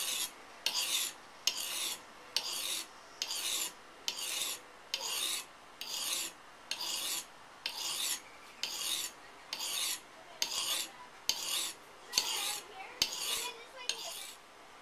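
A knife edge is sharpened in steady back-and-forth strokes, about fifteen crisp rasping scrapes evenly spaced with brief pauses between, close and clear with no talking.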